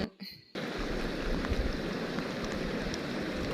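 Steady rain falls through a cold wet spell over a rural northeastern Thai fishing spot where a lift net is being raised, a dense hiss that starts abruptly after a brief quieter moment and stays close and constant.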